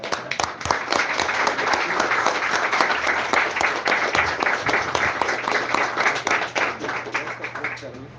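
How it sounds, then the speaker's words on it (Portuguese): A church congregation breaks into warm applause, many hands clapping steadily for several seconds, with a voice and a low hum faintly beneath. "Palmas, papai."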